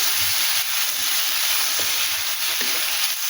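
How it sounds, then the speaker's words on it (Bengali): Fish fries in hot oil with coriander and chilli powder, a loud, dense, unbroken sizzle with a few soft scrapes of stirring. "এইভাবে আমি এটা ভেজে নেব, নিয়ে জল দেবো। এটাকে ভালো করে ভেজে নিলাম।"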